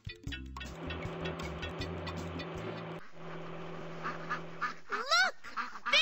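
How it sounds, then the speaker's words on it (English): Cartoon baby ducks blocking a road quack in a few short, squeaky bursts near the end, after a steady vehicle engine hum fills the first part. "Look! Baby ducks!"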